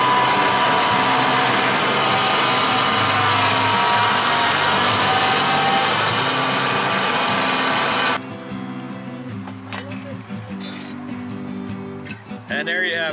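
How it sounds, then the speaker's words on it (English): Tiger Cub and Tiger Cat commercial lawn mowers running together while mowing a big yard, a loud, steady engine drone with whirring blades that cuts to a quieter, more uneven rumble with clatter partway through. "A little bit of synchronized mowing there."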